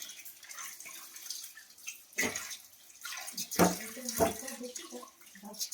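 Pieces of cut rupchanda fish are washed under running tap water, with intermittent close splashes and drips of moderate loudness against quieter background flow.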